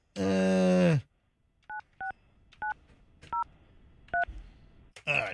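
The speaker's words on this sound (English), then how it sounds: "Let me dial up her line here." A telephone line is dialed: a voice speaks first, then seven paired touch-tone beeps follow at an uneven pace, close and clear, before a voice resumes at the end.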